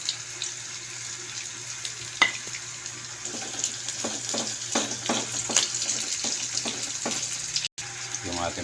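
Garlic and onion sauté in a pan, a steady sizzle with a series of scraping, stirring taps in the middle and a brief dropout near the end.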